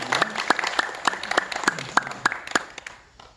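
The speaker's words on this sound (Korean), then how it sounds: "다 같이 뜨거운 박수로 다시 한번 감사해" Church congregation clapping in thanks during a Korean service, with sharp distinct claps standing out over a general patter, then thinning and fading away near the end.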